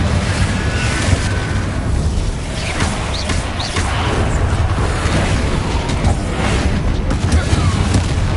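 Fiery spell blasts from the Confringo curse in Hogwarts Legacy, a dense, loud rumbling barrage of booms and crackling bursts running continuously for the whole stretch, with speech faintly mixed in amid the chaotic combat din.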